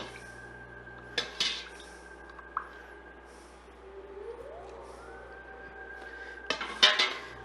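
Spoon scraping and clinking against a pot as stock is stirred into flour for French onion soup, with a few sharp metallic knocks amid a quiet hum and a faint rising electronic tone.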